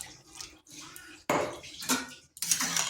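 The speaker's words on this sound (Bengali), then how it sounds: "এখানে সামান্য একটু জল দেব।" A small splash of hot water pours into a cooking pot of spinach and lentils, heard as short bursts of splashing separated by brief pauses, with light metallic clinks.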